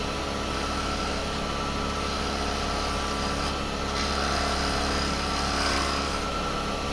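A wood lathe runs with a loud, continuous, even motor hum and a faint whine, close by and unchanging, with no clear separate cutting sounds and no voices.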